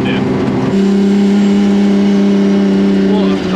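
A Nissan Skyline engine installed in a VW Beetle holds a steady, loud, high drone of revs for a few seconds, with voices talking over it.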